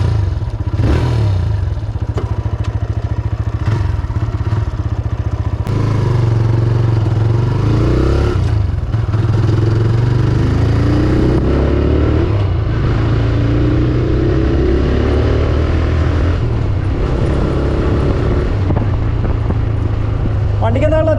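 A TVS Raider 125 motorcycle ridden in eco mode, its mid-pitched engine humming and rising steadily under wind rush and a speaking voice, with occasional clatter throughout.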